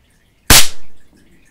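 A single sharp shot from a Crosman CO2 air pistol, a loud close crack that fades quickly into a short tail, with silence before and after.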